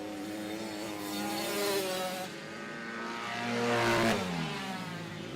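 Racing motorcycles and quads, including a KTM, a Honda and a Kawasaki, roar past with rising and falling engine whine, one machine sweeping by near and loud, then fading.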